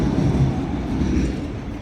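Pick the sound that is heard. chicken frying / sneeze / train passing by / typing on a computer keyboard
train passing by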